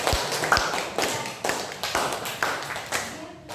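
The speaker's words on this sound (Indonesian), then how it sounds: "Berikan tepuk tangan sekali lagi" Applause for a student group in a classroom, sounding as a series of sharp clustered claps and taps in several bursts, close and moderately loud, with a faint voice in the background.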